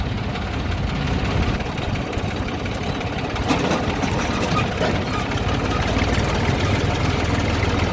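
Tractors and other vehicles idle in busy traffic at a market yard gate in Jamjodhpur, a steady low engine rumble holding through the whole stretch with no talk over it.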